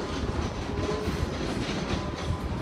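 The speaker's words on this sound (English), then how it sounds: "1451 Romeo 71 ScotRail service to Glasgow Queen Street." A ScotRail train passes at Edinburgh with a steady, loud rumble of wheels and carriages that stays continuous and close throughout, with no voices.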